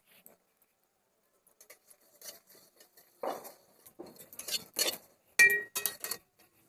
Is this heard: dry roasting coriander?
yes